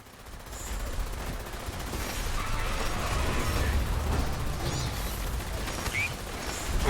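Sustained gunfire from a fusion-core-powered weapon in Fallout 76, a dense continuous rattle of rapid shots at moderate loudness that runs throughout, with faint game sounds mixed in.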